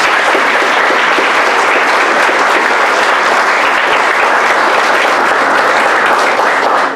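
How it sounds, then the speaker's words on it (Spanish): Warm, sustained applause for a speaker at an academic talk: a large audience claps densely and loudly, close and unbroken for about seven seconds, with no voices. "les pido un caluroso aplauso"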